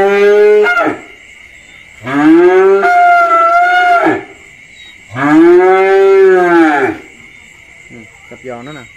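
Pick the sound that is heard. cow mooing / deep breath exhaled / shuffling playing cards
cow mooing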